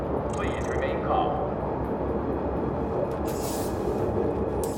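Steady rumble of a moving train in the video game Syndicate, a continuous dense roar running throughout, with brief higher hissing bursts near the end and faint voice-like tones early on.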